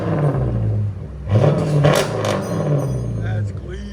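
A 5.7L HEMI V8 in a 2011-2021 Jeep Grand Cherokee with straight pipes, its deep rumble rising in a steady rev, falling back and swelling again, loud and close, while people talk over it.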